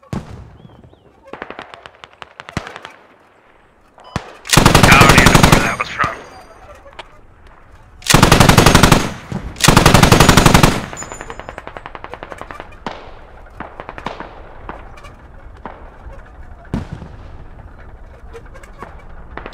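Machine gun fire from an MG position in a video game: three long, loud, sustained bursts of rapid automatic shots, close by, with scattered single distant shots between them and voices talking over parts of it.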